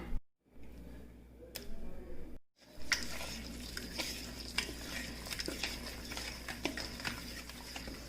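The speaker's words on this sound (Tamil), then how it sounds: "நாலு முட்டையும் உடைச்சி ஒன்றுனா போட்டுற வேண்டியது" Four eggs cracked one after another into a bowl for a cake batter with melted sugar, heard as sharp close taps and cracks amid clinking kitchen clatter and soft wet plops, with no talk.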